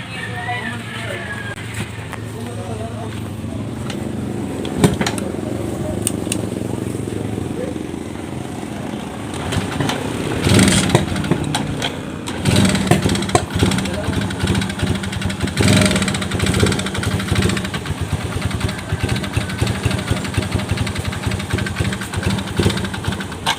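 Car engine after repair starting and idling with a steady, loud mid-pitched rumble throughout, uneven knocking pulses growing stronger in the second half, with voices talking over it.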